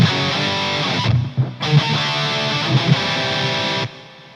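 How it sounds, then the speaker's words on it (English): A heavily distorted metal rhythm guitar plays through a Line 6 Helix patch with reverb. It is loud, with chugging palm-muted chords and stops, then the reverb tail fades at the end. "I think this is just a rhythm patch with some reverb on it."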